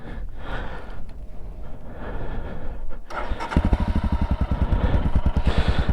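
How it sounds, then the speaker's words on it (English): Royal Enfield Himalayan motorcycle exhaust, a single-cylinder engine idling with a steady loud thump-thump pulse that becomes sharper and more pronounced partway through, close to the microphone with no talking. "let's just listen to that exhaust"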